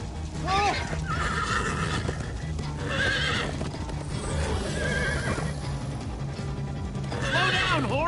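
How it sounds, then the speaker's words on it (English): A horse whinnies several times over steady galloping hoofbeats in the video game Minecraft: Story Mode, loud and close, with characters talking around it. "Slow down, horse!"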